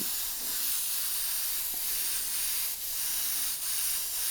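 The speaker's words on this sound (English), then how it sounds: "Although I am spraying over lines and detail" An airbrush sprays paint over a dragon artwork, a continuous close, loud airy hiss with brief dips where the trigger is released.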